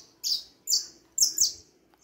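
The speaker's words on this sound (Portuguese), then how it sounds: "Tá aí cantando, aprimorando o canto, né?" A young saffron finch in a cage sings a few bright, clear chirping phrases, close and fairly loud, with short pauses between the bursts.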